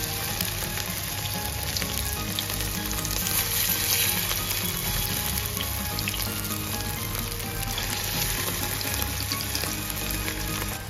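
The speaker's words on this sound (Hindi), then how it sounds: "अपनी हम सारी टिक्कियां जो है फ्राइंग पैन में डाल लेंगे।" Aloo tikki, crispy potato patties, fry in a frying pan with a dense, steady sizzle and a wet crackle that holds even and close throughout, with no voices.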